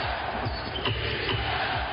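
A packed basketball arena crowd roars in a dense, continuous wash of cheering and noise, with ball bounces faintly thudding underneath, loud and sustained for the whole moment.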